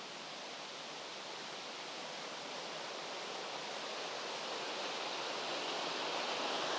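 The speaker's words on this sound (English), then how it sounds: "There's a little stream going through." A small stream flows through the National Orchid Garden in Singapore, making a steady, even rush of water that holds at a constant level throughout with no voices.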